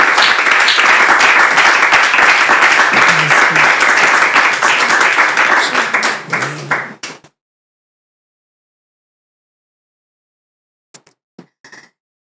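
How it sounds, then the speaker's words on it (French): Studio audience applause fills a French television talk show set, loud and dense for several seconds before cutting off abruptly, followed by silence and a few faint clicks. "On peut l'applaudir pour l'encourager surtout."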